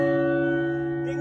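A church bell in the tower of Saint Mary's rings once, a strong clear strike with a sustained, evenly decaying metallic hum heard up close inside the belfry.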